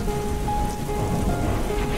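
Steady, dense rain hisses continuously at close range, with faint sustained tones running underneath.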